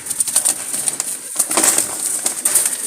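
Wild jalali pigeons coo softly in a flock, their low calls mixed with rustling and the flutter of wings over a constant background hiss.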